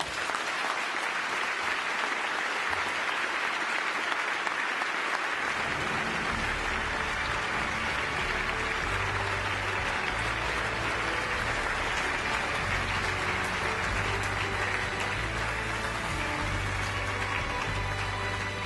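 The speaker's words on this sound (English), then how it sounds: "Big round of applause, Padraig OhUiginn, ladies and gentlemen." An awards show audience applauding, a dense sustained clapping that runs loud and unbroken from start to finish, with a low rumble of crowd noise building in after the first few seconds.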